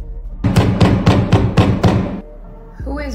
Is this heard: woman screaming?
no